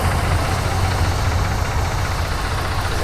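A tractor-driven wheat threshing machine running in a village field, a loud, dense, continuous mechanical roar with a steady low engine drone and no pauses.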